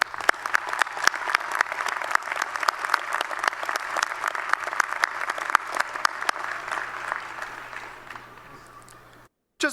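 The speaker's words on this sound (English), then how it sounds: "Graduates, let's give a round of applause to that special someone who's with us here today" A large crowd applauds graduates' supporters at a spring commencement ceremony, steady dense clapping sustained for about eight seconds before it tapers off and cuts out.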